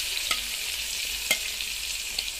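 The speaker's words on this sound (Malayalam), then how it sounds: "നമുക്ക് ആദ്യം ഉള്ളി ഇടാം." Onions frying in hot oil left over from frying fish, a steady broadband sizzle with a few sharp stirring clicks, close and even throughout, with no voices.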